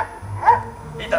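A person playfully imitates a dog, giving two short yappy barks about half a second apart, close and fairly loud, at a cosplay event at a comic convention in Gijón.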